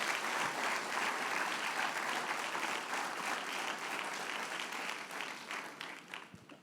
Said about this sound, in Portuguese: convido você a dar uma linda salva de palmas para o Senhor